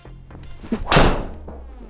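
A Ping G430 golf driver strikes a ball slightly off the heel, giving a single sharp, solid thwack that rings briefly before fading into quiet surroundings.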